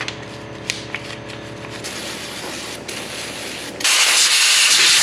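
A steady hissing spray cleans dirt off the oil filter housing of an IH 1066 tractor, continuous and close, growing into a louder, brighter blast for the last second.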